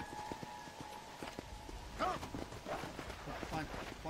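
Horse hooves clip-clopping in the video game Red Dead Redemption: Undead Nightmare, a steady rhythm of light hoofbeats mixed with game sounds while a person talks over them.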